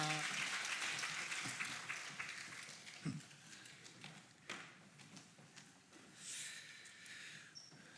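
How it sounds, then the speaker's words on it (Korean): Faint church congregation applause during a Sunday service, starting fairly full and thinning into scattered claps and room noise, with a brief knock partway through. "우리 박수로 잘 다녀라고 응원해 주시기 바랍니다."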